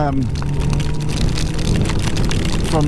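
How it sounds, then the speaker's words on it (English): Heavy rain pours down steadily and close, a dense hiss with a low rumble behind it, heard while out on a bike in West Meon after a day at Diddly Squat Farm. "it is still raining out in the West Meon"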